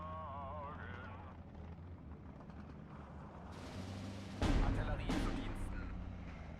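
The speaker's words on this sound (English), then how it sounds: "The only trouble is it's being mortared at the moment." Mortar rounds hitting a trench in the Steel Division 2 war game, a heavy blast bursting in partway through over a droning engine bed, with someone talking over it.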